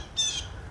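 A pet bird gives one short, harsh squawk, fairly quiet and alone, lasting a fraction of a second over faint background noise.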